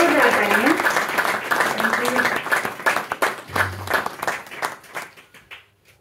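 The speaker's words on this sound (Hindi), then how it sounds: "जोरदार जोरदार तालियां।" Applause at a religious ceremony honoring guests with garlands, loud clapping at first that thins into scattered individual claps, with someone speaking over it early on.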